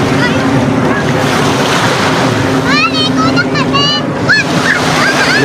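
Steady surf and wind roar across the whole stretch of beach beside a fish port terminal in Tanza, Cavite, with voices and faint chatter mixed into the wash of the waves.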